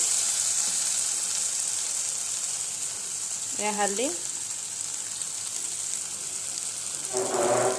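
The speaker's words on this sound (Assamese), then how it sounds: "তেল বিৰিঙিব ধৰিছে অলপ ভাজি ল'লোঁ" A steady hiss of ginger and garlic frying in oil runs throughout, with a brief voice in the middle and a little stirring near the end.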